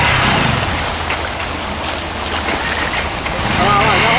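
Heavy rain pours down in Aracaju over a flooding street, a dense broadband hiss with a low traffic or engine rumble beneath, steady and close throughout, with voices talking over it.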